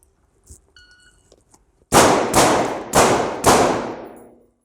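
Four sharp gunshots crack in quick succession, evenly spaced and loud at close range, during a close-quarters shooting drill at targets, each shot leaving a short decaying echo.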